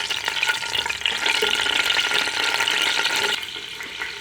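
Four cardamom pods and four cloves sputter in a quarter cup of hot ghee, a loud dense crackling sizzle with stirring clatter that drops off slightly near the end.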